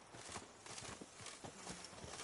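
Horse hooves galloping in The Witcher 3 video game, a rapid, steady clip-clop rhythm of hoofbeats close up under a continuous wash of ambient noise.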